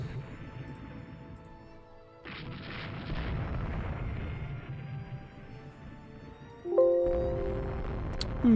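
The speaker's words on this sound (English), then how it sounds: "Hit by a torpedo." Torpedo hits in the naval strategy game Rule The Waves 2 land as deep booming explosions, a low rumble swelling after a couple of seconds and a sharper, louder blast near the end, with no voices.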